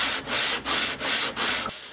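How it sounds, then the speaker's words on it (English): Sandpaper on a jig screwed to a table rubs along an electric guitar's wooden fretboard in four even back-and-forth strokes, close and clear, stopping abruptly at the end. "I could put on some sandpaper, screw the jig down to the table, and then begin sanding."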